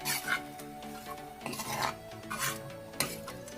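A spoon scrapes and rasps around a pot of coconut paste and tamarind water for a fish curry, in repeated stirring strokes with occasional sharper metallic clinks, close and clear with no talking.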